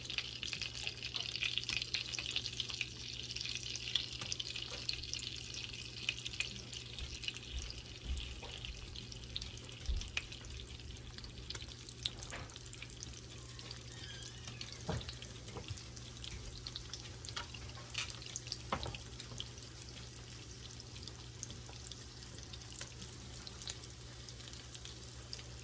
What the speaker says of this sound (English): I'm gonna go ahead and drop these salmon patties in here.